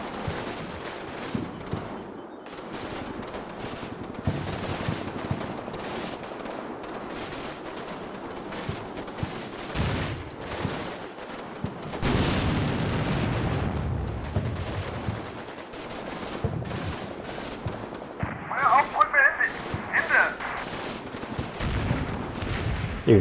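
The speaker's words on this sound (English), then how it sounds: "As you can see, they get up there eventually and start shooting back" Sustained gunfire from German troops shooting back in a war video game, with dense rapid bursts and overlapping shots running throughout, plus louder heavy blasts near the middle.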